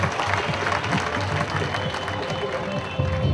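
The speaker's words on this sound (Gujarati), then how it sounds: "એમના માટે જોરદાર તાળીઓ થઈ જાય." A crowd at a college annual prize-giving programme breaks into steady, dense applause for a top-ranking student, with a voice speaking over the clapping.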